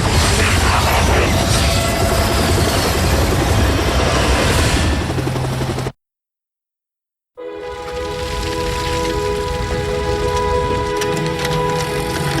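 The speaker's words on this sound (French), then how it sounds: "Decepticons, on se transforme et on décolle." Cartoon Decepticon robots transforming into aircraft and taking off: a loud, dense roaring rush that cuts out abruptly into about a second and a half of silence, then returns with a steady engine-like whine and mechanical hum.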